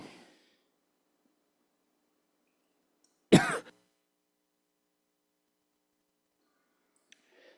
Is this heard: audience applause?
no